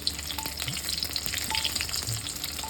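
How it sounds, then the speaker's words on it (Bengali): Eggs frying hard in hot oil for an egg masala curry give off a steady, close crackling sizzle with small pops throughout, and no one speaks. "ডিমগুলো একটু কড়া করে ভাজতে হবে।"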